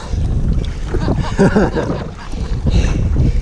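Strong wind gusts buffet the microphone while windsurfing on a foil in Bermuda, a steady loud rushing roar with water splash, and voices react briefly underneath.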